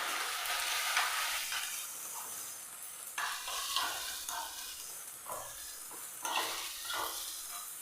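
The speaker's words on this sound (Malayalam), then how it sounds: "ഇതിലേക്ക് നമുക്ക് നമ്മളെടുത്ത് വെച്ച മുട്ട നല്ലപോലെ ഒന്ന് ചിക്കി വെക്കാം" Two beaten eggs sizzle in a hot pan as they are stirred and scrambled, with a bright, crackling hiss broken by repeated scraping strokes.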